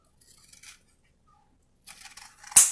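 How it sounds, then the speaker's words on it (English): Leather scissors from Tandy Leather Company snip through leather for a desk mat in two short crisp bursts separated by a pause, close and fairly loud, ending on a sharper final cut. "Pair of leather scissors from Tandy Leather Company."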